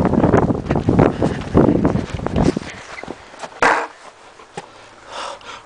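Strong wind buffeting the microphone in loud, low rumbling gusts that swell and fade, mixed with rustling and knocking handling sounds, then quieter after a final gust.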